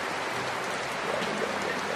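Steady rain in Cipete, Jakarta: a dense, even hiss of falling drops at constant loudness, with no voices.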